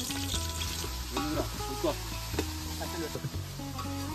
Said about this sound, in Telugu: నూనె అయితే వేడైంది, ఉల్లిగడ్డలు వేసుకుందాం అల్లుడు.